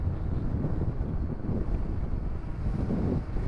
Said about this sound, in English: It is very windy today.